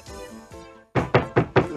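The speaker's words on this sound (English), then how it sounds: "who's that at the door just when I'm about to eat my delicious lunch?" Knocking at a door comes in four sharp, evenly spaced raps, loud and close, right after a fading musical tone, in a 1991 Mr Men and Little Miss story recording.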